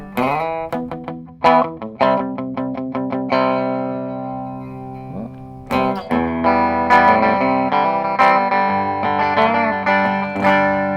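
An Eastwood electric guitar on its bridge pickup, bright plucked notes and picked arpeggios giving way to ringing strummed chords, played alone and clearly with a slight effects sheen.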